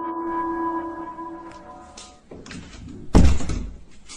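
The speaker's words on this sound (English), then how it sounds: "his bedroom door suddenly slams shut" A bedroom door slams shut once, a loud close thud with a sharp bang near the end, after a quiet hum with a few faint knocks.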